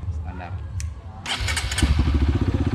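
After a brief quiet moment and some faint voices, a stock Honda CRF 150L engine fitted with a Juken 5 ECU fires up close by and settles into a fast, rhythmic idle.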